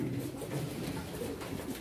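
Pigeons coo in low, soft repeated murmurs at a pigeon auction, a steady hum of birds close by with a faint bustle of the sale around them.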